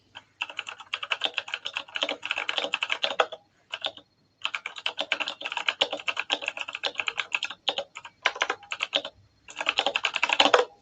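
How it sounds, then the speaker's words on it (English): Rapid clattering keystrokes on a very loud computer keyboard, close up, come in bursts of fast typing separated by brief pauses, with no voices. "I have a very, very loud keyboard."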